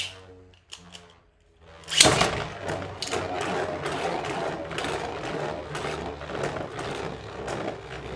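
Beyblade spinning tops clash in a stadium after launch, a sharp burst of impact followed by rapid continuous rattling and ticking of the tops grinding against each other, with a few soft thuds beforehand.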